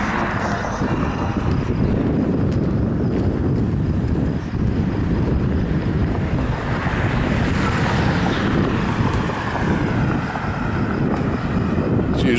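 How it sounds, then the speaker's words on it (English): A car drives toward the listener along a city street at night, its broadband road and engine rumble steady and fairly loud, mixed with wind buffeting the microphone, with no clear rise or pass-by. "And I got a car coming right towards me."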